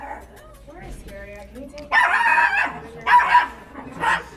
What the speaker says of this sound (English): We have 3 dogs. Can somebody take them out?